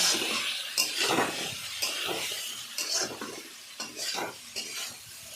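Garlic paste is stirred in a sizzling pan for a cabbage and fish-head curry, with repeated scraping strokes of a utensil over a continuous close fry, no voices.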